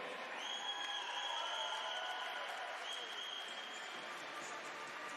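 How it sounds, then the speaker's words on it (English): An arena crowd at a university swimming championship finals applauds a 200 IM champion, a steady, distant roar of clapping and cheering held evenly throughout, with faint tonal whistles above it. "One more round of applause for your champion, Benjamin Lowen."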